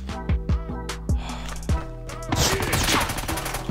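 FR 556 assault rifle firing in COD Mobile Search and Destroy, a rapid series of sharp close shots in short bursts, followed by a denser clattering flurry of impacts.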